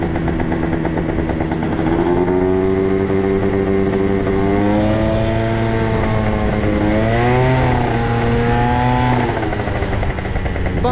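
Italjet Dragster scooter engine droning steadily while riding, a loud close buzzing note that rises and falls with throttle, with no talk over it.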